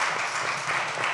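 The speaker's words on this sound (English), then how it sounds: "if we can have a quick round of applause for the panelists here as well" Brief, steady applause from a forum audience for panelists after a climate adaptation discussion, a short even wash of clapping heard alone.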